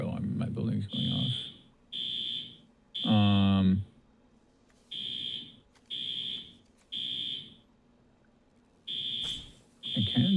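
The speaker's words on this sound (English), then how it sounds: "the fire alarm in my building's going off" A building's fire alarm sounds in a steady pattern of about eight loud, shrill electronic beep bursts at regular intervals, with someone talking over the first part.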